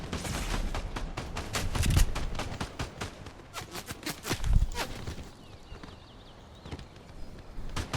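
Rapid gunfire in a Fortnite solo duel, a dense string of sharp cracks with a couple of heavier booms, fairly close and loud, thinning toward the end with scattered shots.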